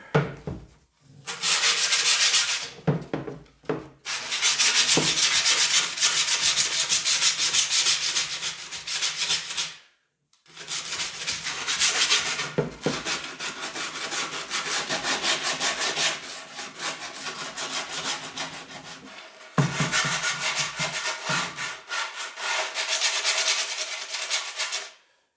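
Sandpaper rasps along the edge of a wooden skateboard deck in long, loud, continuous strokes, interrupted by two brief pauses, close by and with no talking.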